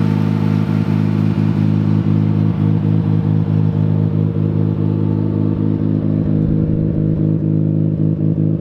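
A rebuilt Mazda RX-7 FC rotary engine runs steadily for a Christmas morning drive, its low droning hum punctuated by rapid regular clattering pulses, loud and close with no voices.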